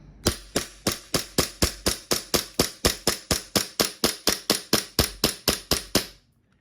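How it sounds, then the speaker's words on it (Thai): A tan WE Glock 17 Gen5 airsoft gas pistol fires a rapid, even string of about twenty sharp, snappy shots, roughly three to four per second, loud and close, then falls silent. "ขึ้นสไลด์แล้วปลดลงแล้วยิงต่อนะครับ"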